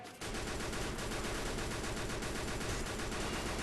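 Sustained automatic gunfire in the Free Fire battle royale game, a dense continuous stream of rapid shots starting abruptly and holding steady and loud with no pauses.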